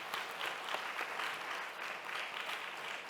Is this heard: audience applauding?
yes